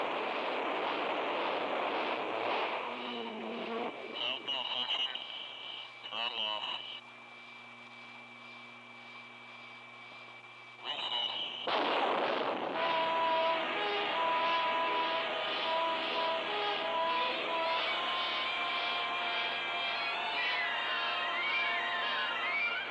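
A ground test run of the X-15 rocket aircraft engine, a loud sustained roar with a steady tonal whine, dropping off briefly mid-way before surging back at full power for the rest of the clip.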